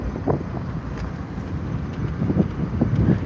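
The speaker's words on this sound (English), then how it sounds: "It is windy." Wind rushes through an open car window and buffets a microphone in uneven gusts, a low rumbling roar that stays steady and close throughout.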